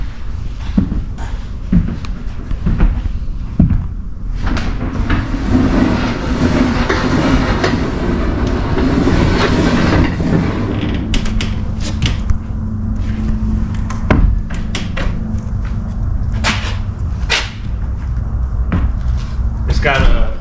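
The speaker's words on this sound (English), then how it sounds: "I'll open the back door here." The rear door of an aluminum enclosed 8.5 by 24 foot car hauler trailer is unlatched and swung open, with metallic clanks, rattles and a hollow rumbling slam amid steady background noise and occasional speech.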